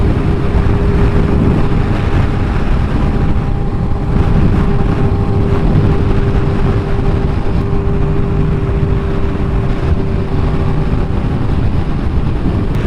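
Riding a motorcycle on a highway in Sullivan County, New York, with a windscreen fitted: a loud, constant rumble of engine and wind buffeting, steady throughout with a faint whine running underneath.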